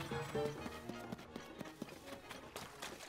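Horse hooves clip-clop in Zelda: Tears of the Kingdom as a steady series of quick taps over game music and ambience, moderately loud and continuous.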